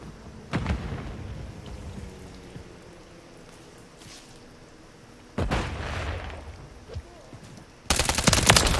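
Automatic gunfire in a multiplayer shooter video game comes in three separate rapid bursts, with quieter stretches between them; the last burst is the loudest and closest.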